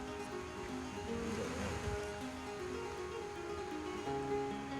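Atlantic Ocean waves break and wash along the shore in northwest Spain, a steady, broad roar of surf with no voices.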